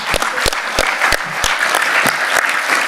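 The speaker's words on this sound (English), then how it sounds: "Big round of applause to them." Audience applause at a football club's Meet the Manager event, steady loud clapping with rhythmic low thumps recurring about every third of a second.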